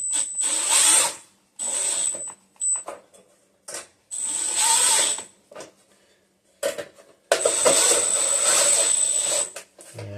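Power drill driving screws into a MIG welder housing, several short whirring bursts separated by pauses, close and fairly loud, with one longer run near the end.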